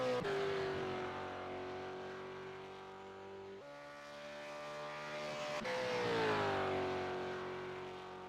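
Supercars race car engines in the iRacing game at Phillip Island Circuit, a loud sustained engine drone whose pitch holds steady, drops at a gear shift, then climbs and sweeps down again as the car powers through the last turns.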